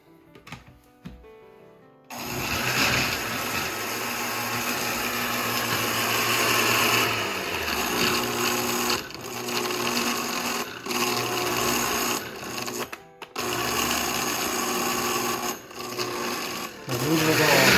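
Food processor whirring as it chops a thick red curry paste, a loud steady motor drone with short pauses and restarts, voices talking faintly over it.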